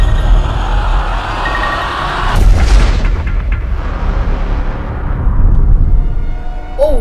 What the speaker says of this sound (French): Un canon géant.